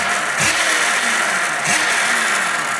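An electric motocross bike motor, a 2021 KTM SX E5 or 2020 Oset MX10, gives two short throttle roll-ons that rise in a quick whine, heard close over a steady background hiss.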